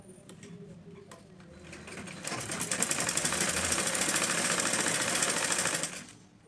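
A sewing machine runs in one steady, rapid burst of stitching for a few seconds while sewing darts on a blouse, starting and stopping cleanly, close and moderately quiet.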